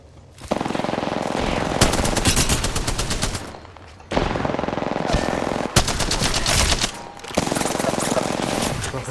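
Sustained bursts of automatic gunfire from the Apex Legends video game, loud and close, coming in long rapid volleys separated by brief pauses, with no talking over it.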